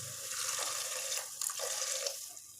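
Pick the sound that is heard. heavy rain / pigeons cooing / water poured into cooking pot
water poured into cooking pot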